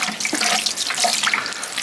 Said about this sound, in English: let's get a little bit of water on that